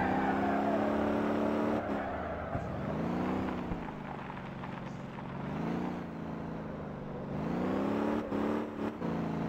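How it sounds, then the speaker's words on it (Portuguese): A car in the Motor Town video game does a tire burnout, its engine holding a loud sustained drone that rises and falls in pitch with a continuous whirring roar, close and alone. "Queima pneu."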